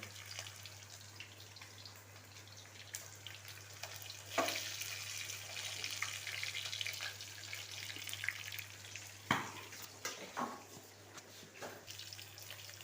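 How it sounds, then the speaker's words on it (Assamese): Fish frying in hot oil, a soft continuous sizzle with a few louder pops and clinks, fairly quiet and close, with no talking. "এতিয়া আমাৰ মাছটো ফ্ৰাই কৰা হ'ল।"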